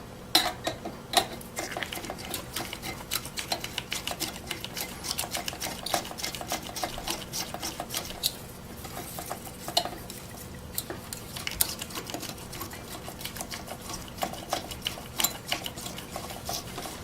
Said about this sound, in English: I'm going to screw it in diagonally like I did before